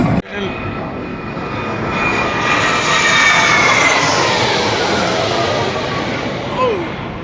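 Military aircraft roaring low overhead during a parade in Hanoi: a loud, sustained jet rumble that swells to a peak as it passes directly above, then slowly fades, with crowd voices beneath.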